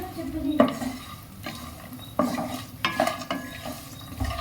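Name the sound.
frying cashew nuts in a pan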